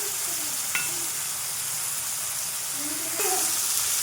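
Ginger, coriander and cumin spices for goat curry sizzle in hot oil. The constant hiss carries a few stirring scrapes, and it grows slightly louder near the end.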